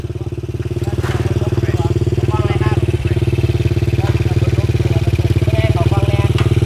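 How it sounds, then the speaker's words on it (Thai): A motorcycle engine revs hard and steadily up close, its loud pulsing throb continuous throughout, with light clatter and people talking in the background. "ไปเบิ้งเลยครับ"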